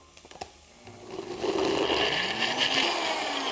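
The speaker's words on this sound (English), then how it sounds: "So we're blending these really just to mush up those dates and get it to be a really kind of thicker sauce" A blender whirs steadily as it purees dates into a thick sauce for vegan apple turnovers, its motor rising after a short start and holding a loud, even grinding drone throughout.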